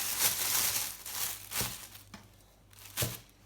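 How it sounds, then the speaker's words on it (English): Potato wedges dropped into a plastic bag, with several soft crinkles and rustles spaced out over a few seconds, fairly faint and close. "You're then going to pop those into a plastic bag."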